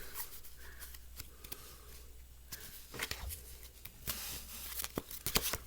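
Crisp riffling of a Polyantha deck of playing cards being shuffled close by, a quiet patter followed by sharper snapping bursts toward the end.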